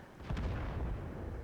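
A tank cannon fires in World of Tanks, one deep booming shot with a long rumbling tail, fairly close and alone.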